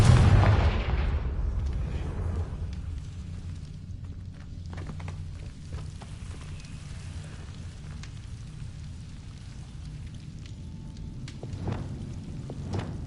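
Repeated Confringo blasting-spell explosions in the Hogwarts Legacy video game, a loud boom at the start followed by rumbling debris and scattered softer impacts.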